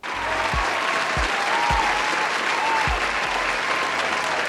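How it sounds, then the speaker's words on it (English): Dense crowd applause at a steady, loud level throughout, with a few low thumps underneath. "Please hold your applause"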